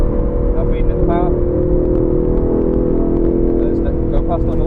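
A 2020 Aston Martin V8 Vantage on the Silverstone International Circuit drones steadily as power is fed in. The in-car engine roar runs continuously and fairly loud, mixed with road and cabin noise.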